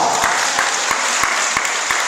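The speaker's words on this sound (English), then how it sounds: "Give Peyton another round of applause." A round of applause fills a school assembly hall for a pupil, steady dense clapping from many hands at close range, with a few sharp louder claps recurring through it.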